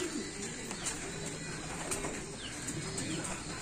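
Pigeons fly into a loft with soft, fluttering wingbeats and faint coos over a steady background hum, at moderate distance and fairly quiet, with no clear speech.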